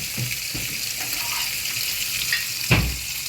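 Meatballs sizzle steadily in a hot pan, a constant crackling hiss with occasional scrapes and clinks as pieces are turned.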